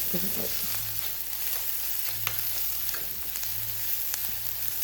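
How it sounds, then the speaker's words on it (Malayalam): Prawns, shallots and garlic stir-frying in a pan for a roast, a dense steady sizzle with periodic scraping stirs and a low recurring hum beneath, close and loud without speech. "ഈ വെളുത്തുള്ളിൻ്റെ ഒക്കെ പച്ച സ്മെല്ല് പോകുന്നവരെ നമുക്ക് നന്നായിട്ടൊന്ന് ഇളക്കിയിട്ട് വേവിച്ചിട്ടെടുക്കാം"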